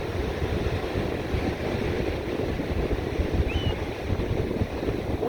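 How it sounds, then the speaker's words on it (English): Wind and surf roar on North Myrtle Beach at sunset on a chilly, windy evening. The rush is steady and broad, with gusts buffeting the microphone and breaking waves blending into one continuous wash, and no voices. "Windy, a little bit chilly, but always awesome at the beach."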